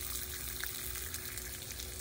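Water runs steadily and close as a child's head is rinsed, a continuous hissing flow with no break or talk.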